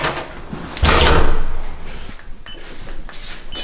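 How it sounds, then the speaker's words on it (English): A door being pushed shut in a UK investment property during a viewing, giving one muffled thud followed by a dull rumble, with quieter knocks and room noise after it. "I can just shut this door and do it."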